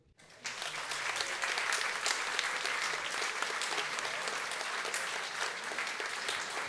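An outdoor village concert audience in Rybník, Slovakia, breaks into applause as a singer arrives, a dense sustained clapping that starts abruptly and keeps up steadily.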